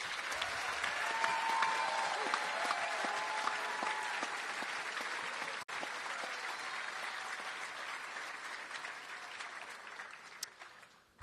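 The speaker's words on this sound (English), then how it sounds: "Let's give one more round of applause to all the graduates." At a school commencement ceremony, a large audience applauds the graduating seniors with a long, even round of clapping that continues for about ten seconds before thinning out and trailing off.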